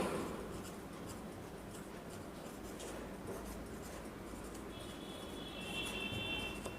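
Writing on a board during a class 12 maths lesson on matrix inverses, heard as faint, continuous scratchy strokes against a quiet room hum.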